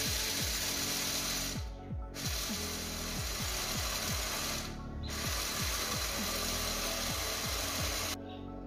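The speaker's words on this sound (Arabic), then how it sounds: "في هذه الاثناء غادي ناخذهم وغادي نطحنهم في الطحان الكهربائي" An electric grinder mills shelled peanuts into powder for crunchy Eid sweets, giving a loud, steady mechanical whir with rattling. Two short pauses break it, and nobody talks.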